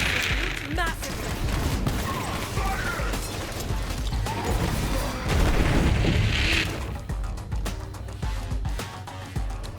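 Gunfire from the Borderlands 3 video game, with rapid bursts of shots, booms and mechanical clatter running continuously at a loud, dense level, mixed with game effects and music.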